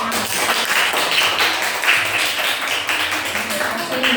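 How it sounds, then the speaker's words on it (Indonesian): Classroom applause for a presenting student group, broad steady clapping from many hands filling the whole stretch, dense and fairly loud with no pauses. "Tepuk tangan untuk kelompoknya."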